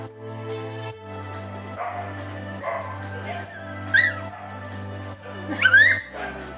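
Dogs at a dog clinic in Sri Lanka yip, whimper and bark in short bursts, some close and sharp, over a steady low hum, with people talking throughout.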